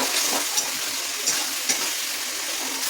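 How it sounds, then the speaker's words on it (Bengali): Chili chicken with onions and Kashmiri chili powder being stirred in a hot pan, a continuous loud sizzle with a few scraping accents from the spoon, close up and without talk. "কাশ্মীরি লঙ্কার গুঁড়ো দিয়ে আবার ভালো করে নেড়ে নেবো কালার হওয়ার জন্য"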